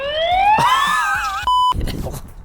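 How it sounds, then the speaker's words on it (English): A SwitchBot security camera sounds its loud siren: rising electronic sweeping wails climb and warble for about a second, then give way to a brief steady beep-like tone, followed by a burst of noise. "loud siren"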